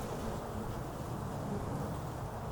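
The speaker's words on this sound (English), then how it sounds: "Oh, no, that was a wasp." A wasp buzzing near a beekeeper standing in a field, a faint, steady insect drone close by against quiet outdoor ambience, with no talking.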